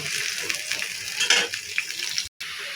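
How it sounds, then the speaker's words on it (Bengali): Chopped onion frying in hot oil in a pan, a steady close sizzle with a few stirring scrapes, briefly cut off near the end. "পেঁয়াজ দিয়ে ভালোভাবে ভেজে নেব"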